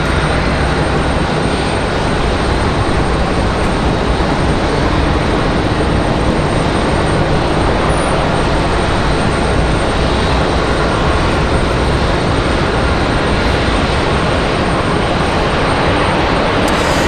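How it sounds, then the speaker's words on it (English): Delta Airbus A320 arriving at Raleigh-Durham airport, a loud, constant broadband engine roar and wind rush, unbroken from start to finish with no voices. "It's an A320. Delta 2164 coming in from Detroit."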